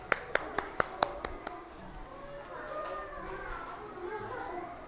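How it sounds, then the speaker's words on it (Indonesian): A few sharp claps from children in a classroom ring out at a quick, uneven pace, then stop, and a soft murmur of children's voices and movement carries on underneath. "Beri tepuk tangan untuk kelompok"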